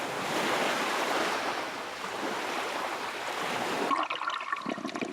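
Heavy high-tide sea waves surge onto the shore of Tuvalu in a loud, continuous broadband roar with wind, easing near the end into scattered splashes and trickling water.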